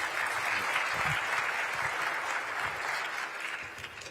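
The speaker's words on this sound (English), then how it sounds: "Please give Sam another round of applause" An audience at a Detroit breakfast politics event gives a steady round of applause for a speaker, dense and continuous, moderately loud, easing slightly toward the end.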